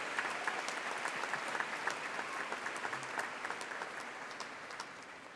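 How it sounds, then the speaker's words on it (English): An audience at a 2019 graduation ceremony claps for a retiring teacher, a long, even wash of applause from a large crowd that tapers slightly toward the end. "Let's give a well-deserved round of applause to Kathleen, who begins her retirement right now."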